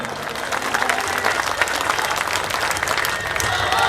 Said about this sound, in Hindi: जोरदार तालियां, समर्थन।